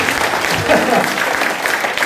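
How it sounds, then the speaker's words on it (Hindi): Audience applause at a network marketing seminar in a hall, a dense steady clapping from a large crowd that holds for the whole stretch at close, loud level. "ताली बजा दीजिए आप लोग"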